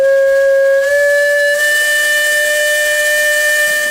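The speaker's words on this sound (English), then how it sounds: "Attached to the Case engine is a whistle that was once used on the old swing bridge." An old swing bridge whistle fitted to a Case steam engine blows one long, loud, steady chord-like tone close by, with steam hiss filling in behind it as it sustains.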